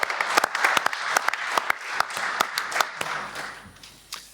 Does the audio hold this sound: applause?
yes